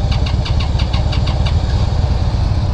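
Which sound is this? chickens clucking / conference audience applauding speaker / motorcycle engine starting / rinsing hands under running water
motorcycle engine starting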